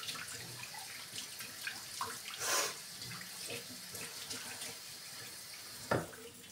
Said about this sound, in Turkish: Bizim çeşmenin şura bozulmuş arkadaşlar. Başlığı olduğu gibi içeriye süzdürüyor.